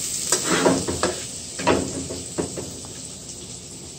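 Shrimp scampi cooks in a pan over a lowered flame, a soft sizzle running beneath a few close clinks and scrapes of a utensil stirring against the pan, no voices.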